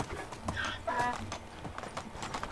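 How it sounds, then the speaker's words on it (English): Donkey hooves trotting in the video game Medieval Dynasty, a soft, irregular clip-clop at close range over low background sound and faint game ambience. "Get run over by a donkey."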